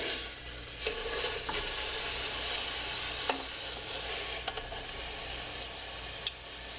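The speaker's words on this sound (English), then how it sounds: "we're going to brown the pork in some more olive oil" Pork loin browning in olive oil in a Dutch oven gives a steady soft sizzle, with a few sharp ticks and pops as the roast shifts in the pan, fairly faint and with no talking.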